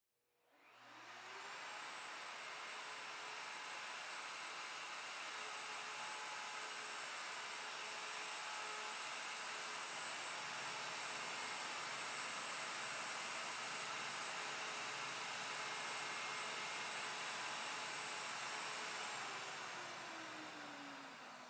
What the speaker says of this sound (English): route the front right-hand tenon